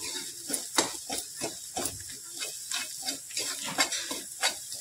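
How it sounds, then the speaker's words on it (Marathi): Onion-garlic masala stir-fried in a pan for a cluster bean (gawar) dish produces rhythmic spatula scrapes against the pan, roughly two strokes a second, over a light sizzle. "चांगलं असं परतून घ्यायचं आहे।"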